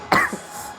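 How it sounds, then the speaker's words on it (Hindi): A single harsh cough with a short follow-up during a workout, close and fairly loud, then a quiet pause. "मेरे को खांसी भाई बहुत ही ज़्यादा आ रही है।"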